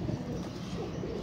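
Pigeon cooing in a low, continuous murmur, close and steady, on a hot sunny rooftop where a pigeon fancier keeps colored, flown pigeons.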